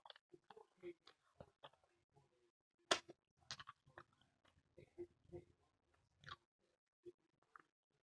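Close, wet chewing and crunchy bites on lemon pepper chicken wings come in irregular bursts, with a few soft murmurs between mouthfuls.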